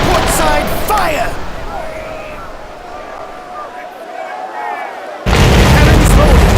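Ship cannons firing a broadside in a naval battle video game, loud booming blasts that open and close the stretch, with a rumbling lull between them and voices calling out over the fighting.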